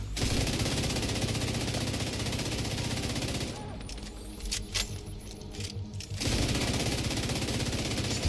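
Gunfire in The Division 2, shooting at office furniture cover: dense rapid automatic fire rattling continuously, briefly dropping to scattered shots mid-clip before the sustained burst resumes, with faint talk underneath.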